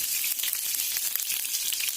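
Dry fruits frying in hot ghee in a pan: a steady, dense crackling sizzle, close and continuous, with no talk.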